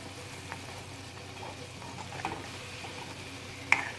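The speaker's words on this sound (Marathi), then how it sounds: "बघू शकता छान उकळत आहे आपलं हे मिश्रण" Zunka mixture, a besan-based Maharashtrian dish with hot water added, bubbling in a pan on the stove: a soft, low simmering hiss with faint pops and one sharper clink near the end, quiet and with no talk.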